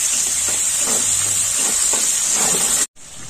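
Chopped garlic fries in hot oil in a pan with onion, a loud, steady hiss and sizzle that runs close and continuous and drops out briefly near the end.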